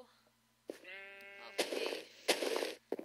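A Minecraft sheep bleats once in a video game, a clear wavering baa, followed by two loud bursts of blocky game noise; the sound is close and there is no talking.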